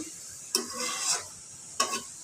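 Curry with coriander leaves being stirred in a pan, two scraping stirs over a faint background sizzle, close and fairly quiet.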